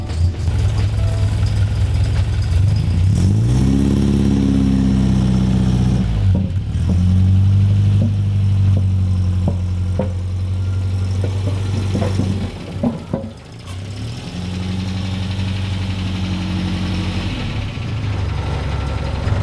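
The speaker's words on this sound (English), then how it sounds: "it's still a little bit rough right now, so let's get it warmed up" A classic MGB engine idles roughly while warming up, a steady close low rumble with a couple of brief dips and surges in pitch, running alone throughout.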